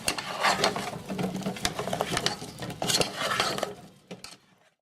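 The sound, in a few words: stirring turnips in a pot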